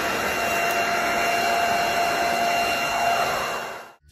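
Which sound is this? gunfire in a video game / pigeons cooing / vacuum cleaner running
vacuum cleaner running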